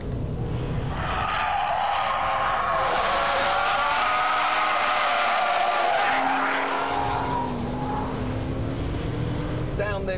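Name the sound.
sports car skidding and drifting on a track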